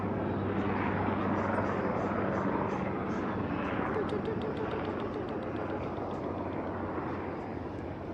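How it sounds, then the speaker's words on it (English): A helicopter flies past outdoors, its loud, rushing rotor roar steady at first and then slowly fading as it moves away. "We'll wait for the helicopter to go by"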